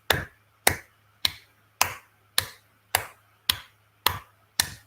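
Single person's hand claps marking the pace of deaths, nine sharp claps at a steady, slow rhythm about every half second, close and clear over a faint low hum.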